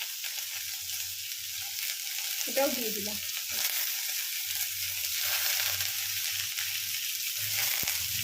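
Onion and potato fry in a pan with a continuous soft sizzle; someone speaks briefly partway through.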